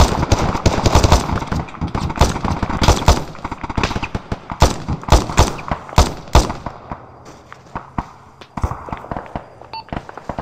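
Heavy video-game gunfire at a sandbagged position in the war game Overthrow: loud, rapid bursts and single shots crack close by, then thin out into scattered distant reports toward the end.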